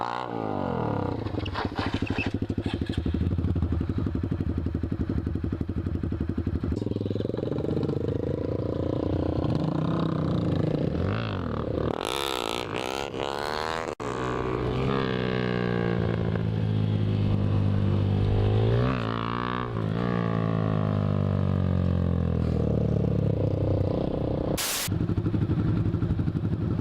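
A motorcycle with an aftermarket exhaust roars loudly and continuously nearby, its pitch climbing and dropping as the throttle is revved, with a rough, growling exhaust note.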